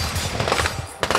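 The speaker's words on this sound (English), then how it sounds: "you can hear the gunshots in the background." Rapid gunshots crack in quick succession at an outdoor shooting range, sharp and fairly loud, followed by another burst after a brief gap.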